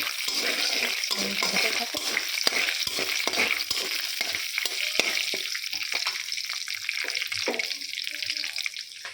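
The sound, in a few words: cumin, ginger, chili, garam masala, bay leaf tempering in oil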